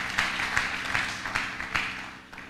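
A church congregation at a worship service claps in an even, repeating rhythm, each clap a soft burst at a steady pace that fades slightly toward the end.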